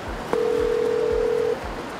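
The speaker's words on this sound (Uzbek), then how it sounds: "103 raqamini terasiz va" A telephone dialing the ambulance number 103 gives a single steady electronic tone lasting just over a second, clear and close over a faint background hum.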